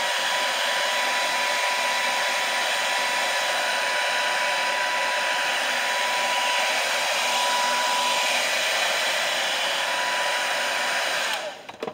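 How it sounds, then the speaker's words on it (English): A blow dryer runs steadily and loudly over clear-coated fishing lures, a constant whooshing hum with a faint whine that holds for about eleven seconds and then cuts off abruptly near the end. "all you're going to want to do is take a blow dryer"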